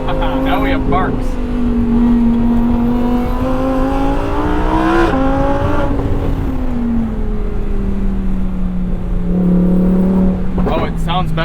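A 2022 Lamborghini Huracan engine revs and pops through gear changes, loud and close, with sharp exhaust barks as the pitch rises and falls.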